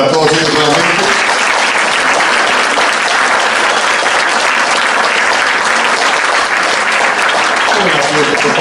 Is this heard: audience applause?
yes